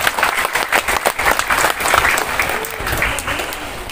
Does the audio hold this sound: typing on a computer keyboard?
no